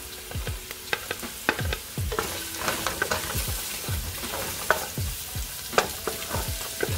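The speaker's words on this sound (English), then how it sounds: "Then we're gonna be adding our garlic." Garlic fries in a pan for chicken chow mein, a steady close sizzle broken by repeated sharp scraping clicks of stirring throughout, with no voices.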